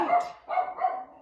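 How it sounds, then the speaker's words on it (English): A pet dog barks in the background, two or three short, fairly close barks in quick succession with no talk over them. "If you hear barking in the background, that's my dog."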